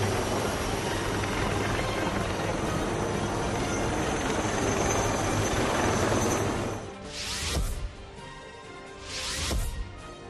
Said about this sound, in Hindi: इस दौरान लाल किला परिसर में हेलीकॉप्टर के जरिए पुष्प वर्षा की गई